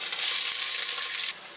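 Onion hitting a hot pan and frying, a bright hissing sizzle that holds steady, then drops sharply to a quieter crackle.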